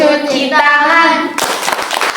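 A group of schoolchildren chant a wudhu clapping song together, then break into a fast, ragged run of loud hand claps close by, their voices continuing alongside.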